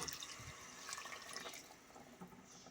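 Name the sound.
water being added to mutton curry pot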